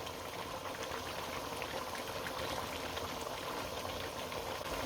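Salted lamb curry, namkeen gosht, frying in a pot as its water cooks off, giving a steady, dense sizzle and bubble that carries close by and without a break, with no voices.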